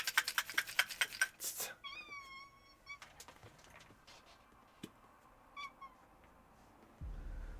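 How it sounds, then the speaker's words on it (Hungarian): A cat meows in a few drawn-out calls, mid-distance and moderately faint, after a burst of sharp clicking and tapping, with scattered small knocks and a low rumble at the end. "Az a cica volt, az nem a Hilda volt"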